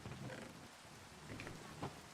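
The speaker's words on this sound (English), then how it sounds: "We got the rain coming in now" Rain falls in the video game Minecraft, a faint, steady patter with a soft low rumble for a couple of seconds and no voices.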